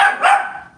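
Elderly dog Bella giving a single short, sharp bark that tails off quickly, close and loud.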